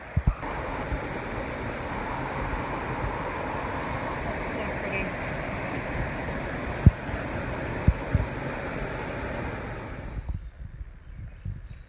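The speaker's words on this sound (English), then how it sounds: "It's a pretty little creek to cross here with a bridge and a rope." A small creek on a rocky Appalachian Trail section runs steadily beneath a footbridge, a continuous close rushing wash with a couple of sharp knocks near the end before it suddenly drops away.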